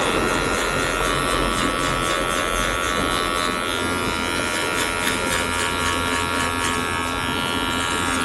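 Electric hair clippers with a number 2 guard and the lever open buzz steadily and close by while cutting hair during a back taper, with no talk.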